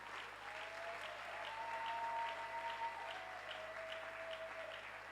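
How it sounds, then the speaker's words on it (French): A church congregation at a Sunday morning service breaks into sustained applause, a dense even clapping that swells and holds for several seconds with a sustained tone ringing faintly through it. "Acclamons le Seigneur."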